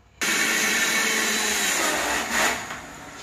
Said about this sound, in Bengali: এদিকে মিক্সারে মশলাও দিয়ে দিয়েছি।